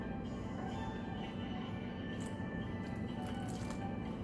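Bare hands work flour and water into dough, producing continuous close wet squishing and smearing with a dense, steady texture and no talking.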